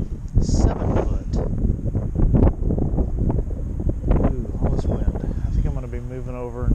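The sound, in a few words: wind blowing on the water while fishing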